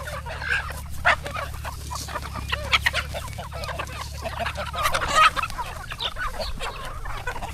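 Country hens clucking at feeding time on a native-chicken farm, a dense chorus of overlapping clucks and squawks with a steady low hum beneath.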